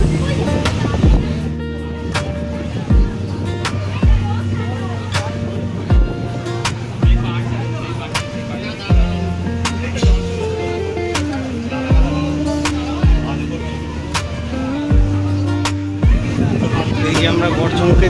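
A boat carrying a motorbike across the Ganges chugs along with a low, droning engine hum, punctuated by repeated knocking thuds at irregular intervals, while people talk nearby.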